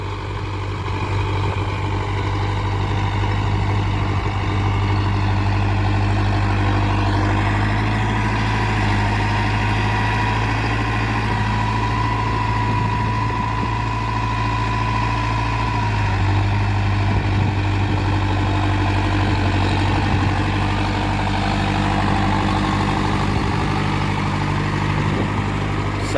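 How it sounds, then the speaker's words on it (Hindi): A 58 HP tractor engine runs steadily under load while pulling an 8-foot rotavator through a field, a continuous low diesel drone with a strong bass rumble that holds an even level throughout, with no voices. "बहुत ज़बरदस्त ट्रैक्टर है भाइयों, 8 फुटा रोटावेटर चलावे से।"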